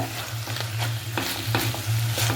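Cooked koorka (Chinese potato) is mashed in a pot of tamarind curry, soft wet squelching and scraping strokes in a steady rhythm over a bubbling simmer, close and fairly loud with no voices.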